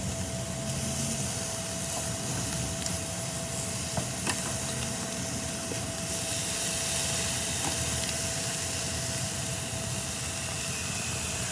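Shoyu kalbi pork ribs sizzle on an outdoor grill, a steady broadband hiss with faint crackles throughout, close and even in level with no talking.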